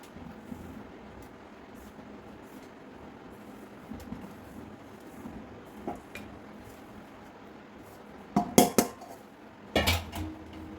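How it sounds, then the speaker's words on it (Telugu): Powdered nuts, seeds and jaggery for laddu are mixed in a pan on low heat, a faint steady scraping with a few louder metallic clanks and knocks near the end; no speech. "ఇప్పుడు ఈ పొడులన్నీ ఇందులో వేసి కలిపేసుకుందాం"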